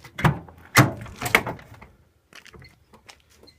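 A Ford E350 van door is unlocked and opened: a few sharp mechanical clunks and latch sounds in close succession, followed by quieter rattles and faint handling noises, with no talking.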